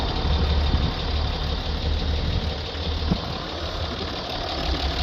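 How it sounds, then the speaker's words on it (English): Range Rover 3.0 diesel engine idling with a belt squeal, heard as a steady close clattering diesel rumble and a faint high whine layered over it. "we've got a belt squeal"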